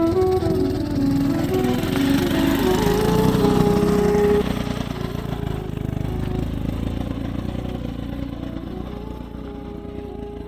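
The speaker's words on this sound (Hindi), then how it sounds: "कुछ दूर तक तो हम आगे हैं मोटरसाइकिल के ऊपर" A motorcycle engine drones steadily while riding through the hills of Uttarakhand, loud and close throughout with a humming, slightly wavering pitch and no voices.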